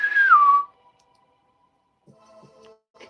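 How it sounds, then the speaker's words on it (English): A ship's boatswain's whistle piped for dignitaries coming aboard: one high, bright tone that slides down in pitch and cuts off after about half a second, followed by faint clicks and soft tones. "that whistle when the dignitaries come on board"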